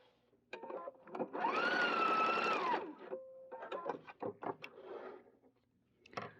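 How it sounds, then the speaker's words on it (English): A sewing machine stitches the ends of a trench coat flap with one steady whirring run of about two seconds, close and clear, then stops, leaving quieter handling clicks and rustles afterward. "put right sides together, and I'm just going to stitch the ends"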